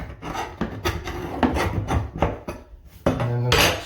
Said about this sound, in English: Now there's some silicone on the outside of this. I've scraped some of it off, but we'll go ahead and scrape off what we can.